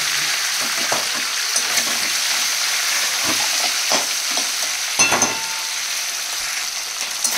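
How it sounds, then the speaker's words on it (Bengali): Fish heads fry in oil for a cabbage dish, a loud, close crackling sizzle with scattered pops and stirring clatter across the whole stretch, no talking. "এখানে ভালো করে মাছের মাথাগুলো লাল করে ভাজা হবে।"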